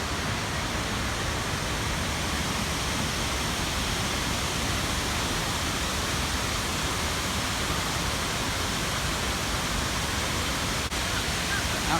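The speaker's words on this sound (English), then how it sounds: "We have some beautiful fountains out here." Fountains along San Antonio's River Walk near the Avenue of America send up a steady, even wash of splashing water that stays constant and fairly soft throughout, with no voices over it.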